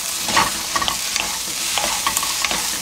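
King oyster mushrooms stir-fried in a pan, a steady sizzle broken by repeated short clacks and scrapes of a spatula stirring, close and alone.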